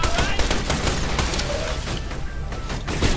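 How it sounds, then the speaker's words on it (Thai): Automated security system gunfire in Borderlands: The Pre-Sequel video game, a dense rattling burst of rapid shots and pops that continues throughout without a break, with a voice faintly mixed underneath. "ระบบความปลอดภัยมันก็จะไปออกไปยิงนะ"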